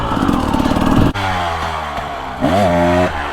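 A 2022 Gas Gas EC 250 dirt bike runs loud and close by. Its engine revs high, stops abruptly, then picks up again at a lower pitch with quick throttle blips and a rising rev near the end.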